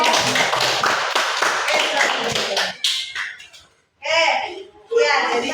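Children in a classroom clap hands in a quick burst of rapid claps, followed by a pause and short bursts of children's voices.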